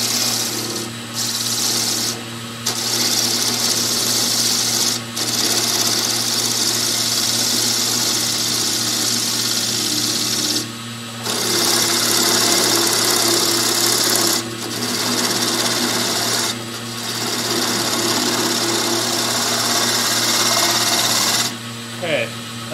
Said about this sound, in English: Now, let's trim it away. A series of shear scrapes.